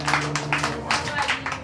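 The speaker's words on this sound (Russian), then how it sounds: "И аплодисменты тоже Алине." Applause for a guest named Alina at an 18th birthday party, a rapid run of overlapping claps from a small group that carries on steadily for a couple of seconds.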